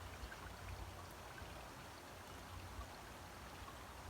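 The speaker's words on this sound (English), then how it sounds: "It's dumping out water right now." Water pouring steadily out of a pond waterfall, a continuous broadband rushing and splashing that stays soft and even throughout, with no talk.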